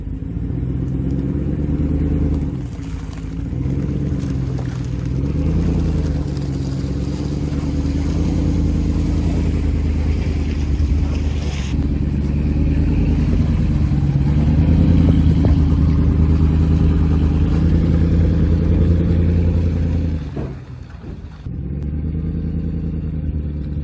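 A vehicle engine revs and strains at length while pulling a trailer out of soft, mushy ground on a homestead, a loud, close, sustained rumble that rises and falls, with a brief dip near the end.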